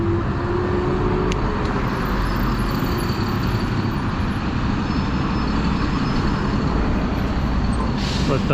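A bus passes on a road as a cyclist rides an e-bike, a steady loud wash of engine and road noise with wind rumble filling the whole stretch, no break in the sound.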